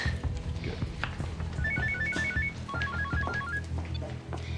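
A telephone rings with a rapid electronic trill, two repeated bursts heard close up over background room noise and light movement.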